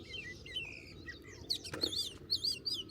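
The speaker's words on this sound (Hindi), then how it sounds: "चिड़िया आके बैठ गई हैं बहुत सारी यहाँ पे। आवाज़ सुनो उनकी" Many small birds chirp and twitter together on a rainy early morning at a camp, their high calls overlapping above a steady low hiss of ambient noise.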